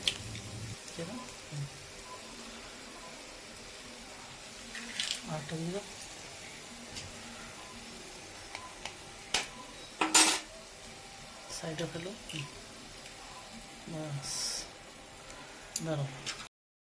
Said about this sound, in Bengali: এই সময়তে আমরা 2টো ডিম ফাটিয়ে এর মধ্যে দিয়ে দেবো।